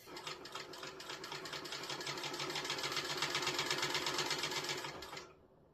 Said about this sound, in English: We're going to stitch those 4 edges.